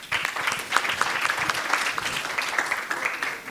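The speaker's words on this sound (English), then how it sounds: "a round of applause for the panels." Audience applause for conference panelists at the Eswatini Green Indaba, a dense, steady round of clapping from a seated crowd lasting several seconds.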